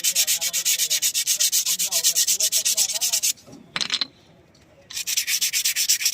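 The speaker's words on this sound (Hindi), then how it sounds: "कपड़े से अच्छी तरह इसको साफ़ कर देना है" Cloth rubbing over Gypsy front-wheel brake parts during cleaning, heard as close, loud rhythmic back-and-forth rasping strokes that pause briefly for a short scrape, then resume steadily.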